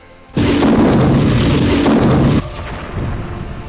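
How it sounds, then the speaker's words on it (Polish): An artillery battalion fires a shot in a 1939 battle at Częstochowa: one heavy, close boom whose roaring rumble holds for about two seconds before dropping to a lower, rolling echo. "Wystrzał."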